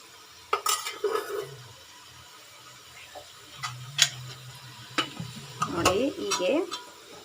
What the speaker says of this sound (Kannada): ಸೊಪ್ಪು ಚೆನ್ನಾಗೆ ಹಸಿ ವಾಸನೆ ಹೋಗೋವರೆಗೂ ಫುಲ್ಲು ಫ್ರೈ ಆಗಬೇಕು